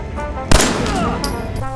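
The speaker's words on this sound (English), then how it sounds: "I shoot him in the head" A single loud gunshot in the video game Fallout, a sharp close crack followed by a brief ringing tail over game ambience.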